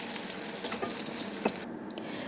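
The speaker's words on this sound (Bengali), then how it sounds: "আলুটা আমি হালকা করে বাদামি করে ভেজে নিচ্ছি।" Potatoes frying in hot oil until light brown, a steady dense sizzle with a few sharper crackles and pops, close up, which then drops away abruptly near the end.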